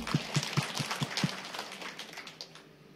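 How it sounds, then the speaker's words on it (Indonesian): Congregation at a church worship service claps: a handful of distinct, evenly spaced claps at the start, then a softer scattered patter fading out. "Tepuk tangan untuk Tuhan."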